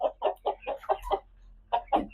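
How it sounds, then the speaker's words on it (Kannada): Panchani chicken chicks about 70 days old cluck in a rapid rhythmic series of short calls, with a brief pause midway before a few more. The calls are moderately close and heard without any talking. "ಇದೇ ಮರಿಗಳು, ಅದು ಪಂಚನಿ ಕೋಳಿ ಮರಿಗಳು."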